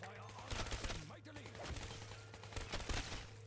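An AK-74 rifle fires in rapid bursts during a first-person video game, faint crackling volleys repeating across a few seconds under a steady low hum.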